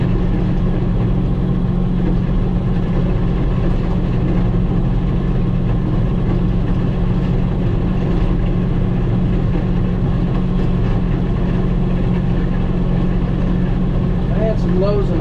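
A tractor engine running while grading a gravel driveway gives a loud, continuous low rumbling drone that stays steady and close for the full fifteen seconds.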